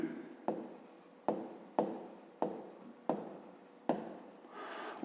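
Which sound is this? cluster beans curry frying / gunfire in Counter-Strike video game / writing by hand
writing by hand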